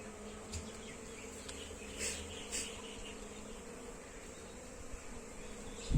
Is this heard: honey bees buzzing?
yes